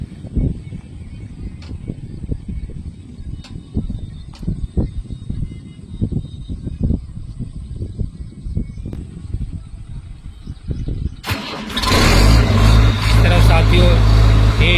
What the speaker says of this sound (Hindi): ये स्टार्ट हो चुका मशीन और इसका आरपीएम शो कर रहा है।